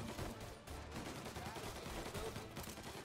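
Gunfire in the video game Mafia Definitive Edition, dense overlapping shots and bursts with a dull, muffled character, continuous and mid-distance, with a voice faintly mixed in.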